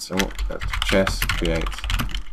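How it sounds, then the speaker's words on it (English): Keys clatter on a computer keyboard as a game command is typed, quick light clicks running beneath a voice that talks throughout. "Now to do this, we're going to type in chess"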